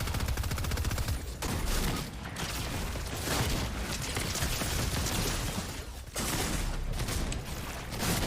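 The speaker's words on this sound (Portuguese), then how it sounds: "Atirei no cara errado" Loud, dense bursts of gunfire from a shooter video game rattle almost without pause, with a few brief gaps between volleys.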